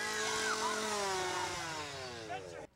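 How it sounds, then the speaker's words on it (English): A chainsaw revs loud and continuous, wielded by an actor playing a crazy killer in a haunted house attraction, roaring steadily with a shifting pitch before cutting off abruptly near the end. "every haunted house has to have a crazy killer with a chainsaw"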